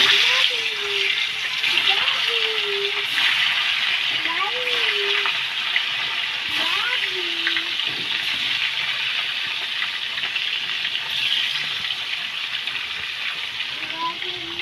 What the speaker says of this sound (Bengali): এবার মাছটা আমি ভেজে নেব।